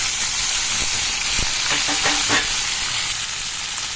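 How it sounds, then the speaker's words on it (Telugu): Green chillies, onions and tomatoes sizzle steadily in hot oil, a close hissing fry with a few soft stirring clinks and scrapes partway through. "వేగుతున్నాయండి ముక్కలు వేగిపోయండి"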